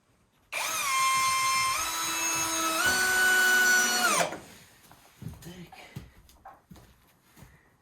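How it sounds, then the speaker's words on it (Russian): A power drill drives self-tapping screws into an overlapping board during fireplace work on a farm, giving a loud steady whine for about four seconds that rises in pitch partway, then stops and leaves quieter handling noises. "Наживляем саморезами, чтобы она никуда не сдвинулась потом."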